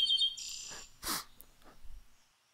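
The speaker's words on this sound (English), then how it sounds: "You hear those birds?" Spring birds call outdoors with a few short, bright chirps at moderate distance, then quieter scattered notes fade toward silence. No voices are heard.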